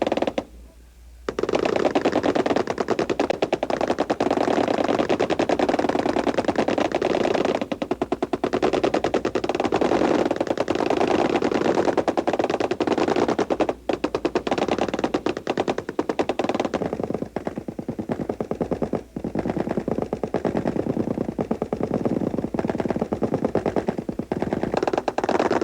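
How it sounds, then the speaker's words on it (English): An M60 machine gun fires at an army basic training range, a loud, dense, nearly continuous automatic rattle that runs the whole length with only a couple of brief breaks. "One of the treats we all have is waiting for the firing of the M60 machine gun."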